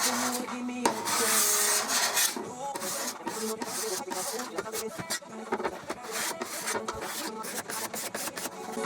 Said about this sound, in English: I'm going to use a cabinet scraper to take off the old finish from these pieces of trim.